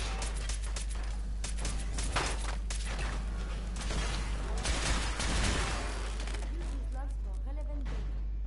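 Gunfire rattles in a Fallout 4 fight, with a steady wash of rapid shots and crackling bursts that rise and fall over several seconds, mixed with other game sounds.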